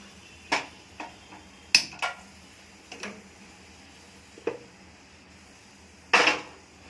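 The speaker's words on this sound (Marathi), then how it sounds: "गॅस चालू करूया" Gas stove igniter clicking in a home kitchen during cooking: several sharp, dry clicks at uneven intervals, close and fairly quiet, with no voices.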